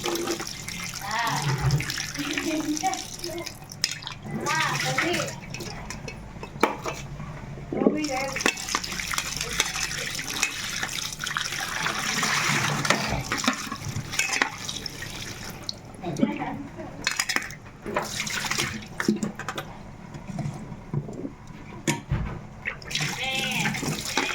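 Water is poured over dry fish pieces to wash them, making uneven splashing and trickling close by, with a voice speaking at times over the water.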